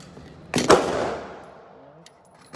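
Two sharp, loud reports in quick succession from a freshly built 80% Glock 17 pistol being test-fired, followed by a long reverberant tail that fades into quiet; no talking.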